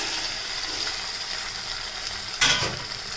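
Fish roe frying in a pan with tomato, onion and ginger paste, a steady close sizzle with a brief louder burst of hissing and clatter near the end as the roe drops in.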